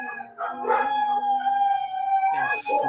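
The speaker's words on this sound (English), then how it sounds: "and of course the dogs start howling." Dogs howl in long, wavering, overlapping tones, fairly close and steady, with brief bursts of other voices or noise breaking in during the howling.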